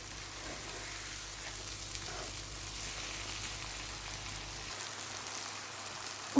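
Tomatoes in an okra (bhindi) curry simmer in a pan over medium heat with a soft, constant, rain-like sizzle that stays level and close throughout.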